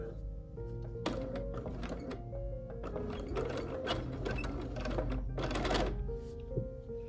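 A sewing machine stitches the quilted back of a pumpkin trivet in bursts of rapid mechanical whirring, starting and stopping several times, close and clear, with a faint hum between runs.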